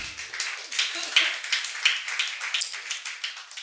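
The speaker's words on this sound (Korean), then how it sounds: "박수하겠습니다" A church congregation claps steadily for several seconds, a dense patter of many hands at moderate volume with no talking.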